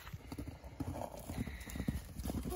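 Horses walking near water, their hooves clip-clopping in a steady uneven rhythm at close range, with no talk over them.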